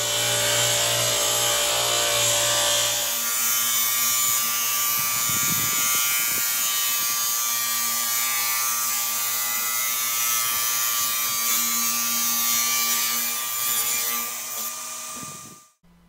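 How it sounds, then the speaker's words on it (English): A radial arm saw rips wooden boards to width for sailboat spreaders, a loud steady high-pitched whine cutting through wood for most of the stretch before spinning down at the end. "With the jointed edge against the fence, the boards are ripped to width with my radial arm saw."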